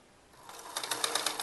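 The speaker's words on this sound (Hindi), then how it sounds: "देखो मेरी लग चुकी है डबल सिलाई।" Sewing machine running a double line of stitching on a baby elastic frock, starting softly and building to a steady, fast rhythmic clatter with regular pulses, close and alone without talk.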